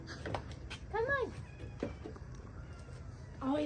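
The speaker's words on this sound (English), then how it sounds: "There's one silly cat." A cat gives several rising and falling meows spaced across a few seconds. A person speaks quietly in the background.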